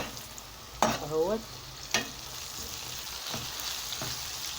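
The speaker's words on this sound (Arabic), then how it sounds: "نزلنا يا جماعه بالبصل اهو على الزيت" Chopped onions dropped into very hot oil in a pan for Egyptian koshari, giving a steady broadband sizzle with a few sharper bursts, close by, with a brief spoken word at the start.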